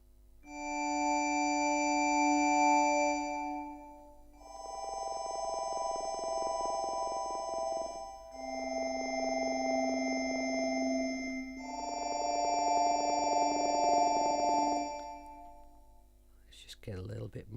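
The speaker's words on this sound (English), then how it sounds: "I'll take the delay off while we do the reverb just so we can really hear it" Sustained chords from the Mynth synthesizer held in long blocks with a lush reverb tail, played alone, ending with a short bright burst.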